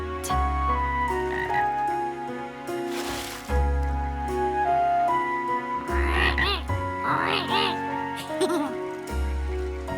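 Cartoon frog at a pond in the middle of the woods, giving deep, resonant croaks in separate bursts, with brief squeaky warbling calls midway, loud and close.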